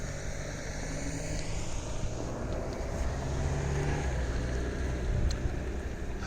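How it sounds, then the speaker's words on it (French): A car passes along a country road among fields, a steady low rumble of tyres and engine swelling slightly toward the middle and fading, with no talk. "On va laisser passer la voiture"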